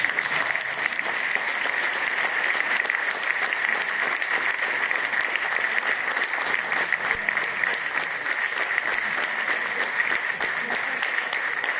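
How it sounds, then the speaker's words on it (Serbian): Sustained loud applause from an audience at a folk dance ensemble performance of Šumadija dances, dense steady clapping running throughout with no pauses. "Ajde, dajte da aplauzi za Bogu"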